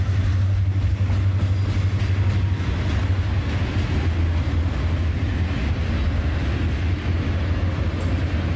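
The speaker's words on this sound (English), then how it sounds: "the welded rail train gets underway as it continues north" CSX welded rail freight train getting underway heading north toward Nashville, a deep low engine drone with steady rolling rumble, continuous and moderately near.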